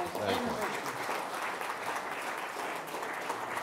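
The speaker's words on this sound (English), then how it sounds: "Give him a big round of applause." Dense applause from a crowd, steady and fairly distant, lasting throughout.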